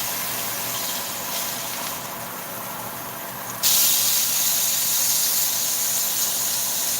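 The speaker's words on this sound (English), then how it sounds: "Sear off that fat side a little bit." Sauerbraten meat sears fat side down in a hot pan with a fan running: a steady hiss that suddenly jumps to a louder, bright sizzle partway through and keeps going.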